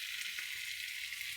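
Meat braises in a pan over a raised flame, a faint, steady sizzle with a single light clink partway through, nobody speaking.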